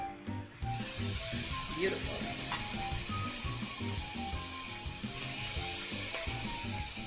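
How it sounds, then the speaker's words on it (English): Pork riblets sizzle steadily on a hot grill, a continuous crackling hiss, with a brief spoken word over it. "It should sizzle right away."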